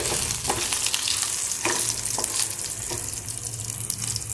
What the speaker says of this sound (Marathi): जिरं क्रॅक झाल्यानंतर मिरच्या भाजून घेऊया